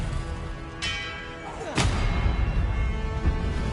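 The Confringo explosive spell goes off in Hogwarts Legacy, a single heavy blast with a rushing burst followed by a low rumbling tail over steady game ambience.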